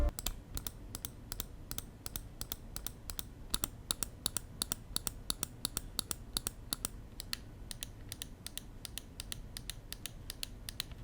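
Rapid, crisp button clicks from a Model D Wireless gaming mouse, some in quick bursts and some spaced out, close and clear over a faint background hiss.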